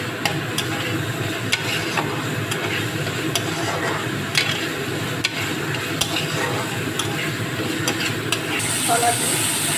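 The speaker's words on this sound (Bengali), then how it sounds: "হালকা করে এগুলো নাড়তে হবে" Homemade chicken chaap frying in a pan, with a steady sizzle and hiss under repeated light scraping and stirring taps, close and continuous throughout.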